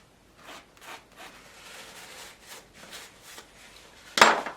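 A paint palette scraped clean with a palette knife in an oil painting session: a series of soft rubbing scrape strokes, moderately close, ending in one sharper, louder scrape.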